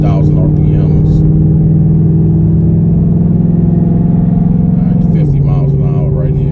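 A deep, steady V8 exhaust drone from a 2024 Mustang GT with Kooks green catalytic converters, under light acceleration below 3,000 RPM, close and loud, with a brief shift in pitch near the end and talk over it.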